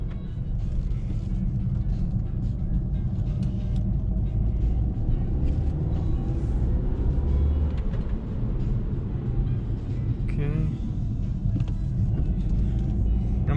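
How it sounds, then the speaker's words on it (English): Steady low engine rumble and road noise from inside a 2015 red Audi A3 2.0 Quattro with 220 hp, driving on wet roads in bad weather, loud and continuous throughout with no talk. "so we're gonna go ahead and drive this car"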